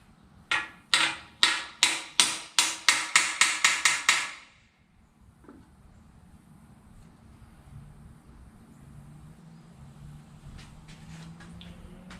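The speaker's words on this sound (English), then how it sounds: "Hated to hit on that aluminum handle with a hammer because it nicks it all up." A hammer strikes an aluminum handle on a 1955 Chevy about a dozen times in a quick, steady run of loud, sharp metallic blows, followed by quiet low rumbling and faint background noise.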